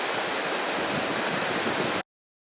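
The river in Mostar rushes past in a steady, loud broadband roar. The sound runs without a break and then cuts off abruptly.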